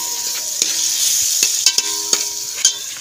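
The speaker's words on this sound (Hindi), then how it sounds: "प्याज उपर रखते थे चूल्हे पर पकड़ वास्ते सालन" Onions sizzling in a pot on a stove as the base for a curry, a steady hiss of frying broken by several sharp clinks and scrapes of a stirring utensil against the pot, close and clear.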